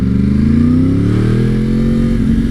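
A Yamaha R1 motorcycle engine drones loudly and steadily while riding, its pitch climbing gradually as it pulls, heard up close with wind noise and no talk.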